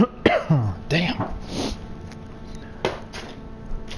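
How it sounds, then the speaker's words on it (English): A man coughs dryly a couple of times at close range, with short harsh bursts followed by quieter throat noises and faint background clatter. "Now I got that dry cough."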